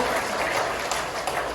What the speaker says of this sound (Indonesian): Tepuk tangan bagi Bapak Ibu sekalian.